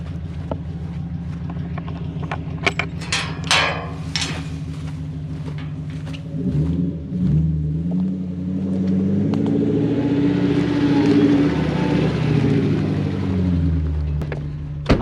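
A Toyota Surf 4Runner fitted with a 1UZ V8 engine drives off-road, idling with clicks and knocks before the engine note rises into a steady, revving drone as it moves along a rough track.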